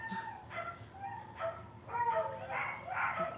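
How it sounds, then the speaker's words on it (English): Several dogs bark and yip in repeated bursts, somewhat muffled and moderately distant, with a whimpering quality between barks. "Oh my goodness, the dog is going crazy"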